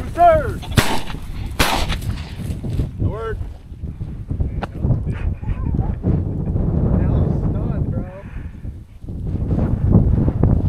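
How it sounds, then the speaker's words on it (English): Shotgun blasts during a pheasant hunt in the open, two sharp loud reports early on followed by a faint crack, heard against wind noise and voices talking. "I missed the easiest shots."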